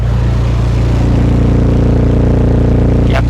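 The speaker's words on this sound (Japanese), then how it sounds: "やっぱりマフラー音最高。" A loud, steady engine rumble from a supercharged Honda CR-Z Mugen RZ, with a deep, throbbing exhaust note that holds even throughout, ending with a brief sharp rise.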